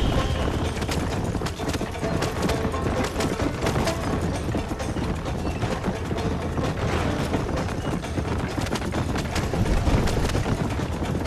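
Horse hooves pounding continuously during a cart race in the Red Dead Redemption video game, a dense, steady clip-clop drumming with rumbling wheels and noise, loud and unbroken for the whole stretch, with no talk.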